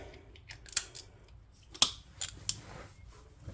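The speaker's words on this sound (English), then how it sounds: "We'll go ahead and get our extended handle ratchet and properly torque these." An extended-handle ratchet torquing brake bolts on a 1983 Toyota Tercel wagon during a brake upgrade, a few sharp close clicks spaced irregularly over a low shop background.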